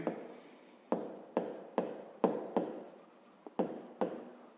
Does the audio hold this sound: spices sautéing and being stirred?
no